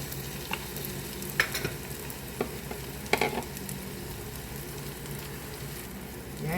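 Bitter gourd and egg sauteing in a pan, a steady low sizzle with intermittent scraping stir strokes from a utensil, close and moderately quiet, with no talking.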